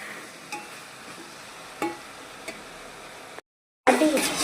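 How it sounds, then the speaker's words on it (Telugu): Eggplant pieces fry in a pan with a steady low sizzle, broken by a few soft clicks of stirring and a brief pause before the frying resumes louder. "ఇందాక కట్ చేసిన కదా వంకాయలు అవి ఫ్రై చేస్తున్నా"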